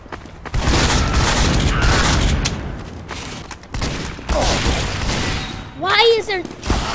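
Shotgun blasts from a Scout in Team Fortress 2 boom through a dense, noisy game mix, loud and repeated, with a bright chirping effect near the end.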